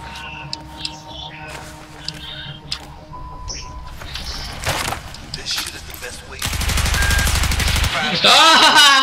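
An MG4 machine gun fires in Battlefield 4 on the Baku, Azerbaijan map, a loud, sustained automatic burst near the end that follows scattered game effects, with a voice talking over it.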